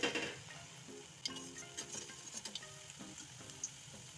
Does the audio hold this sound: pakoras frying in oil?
yes